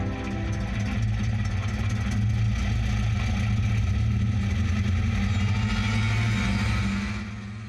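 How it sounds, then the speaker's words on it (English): The air-cooled 4-cylinder boxer engine of a VW T1 Samba bus runs at a steady idle, a continuous low, throbbing rumble heard up close, easing slightly in the last second. "The air-cooled 4-cylinder boxer engine keeps going and going"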